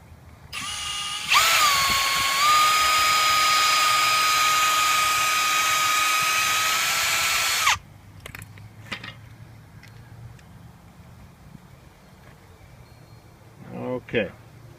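A power drill bores a hole into a massage roller recovery stick, a loud steady high whine running about six seconds and then stopping, followed by quieter handling clicks and rustle.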